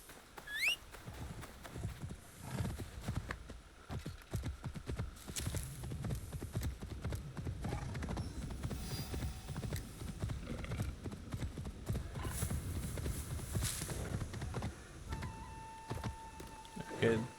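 Horse hooves clip-clop at a steady gallop while riding in Assassin's Creed Shadows, continuous and fairly close, with game music and ambient effects underneath and a voice talking over it.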